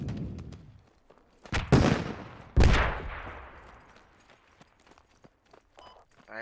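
Gunfire in the Squad military shooter game on the Kohat map: two loud, sharp shots with long echoing tails stand out amid faint footsteps, distant pops and scattered clicks, with brief murmurs of speech.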